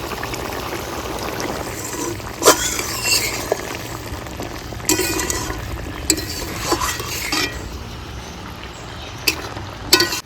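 A spoonful of ghee goes into a pan of spicy giant prawn curry finished with garam masala and slit green chilies, giving a continuous frying sizzle broken by occasional scraping and clattering as it is stirred.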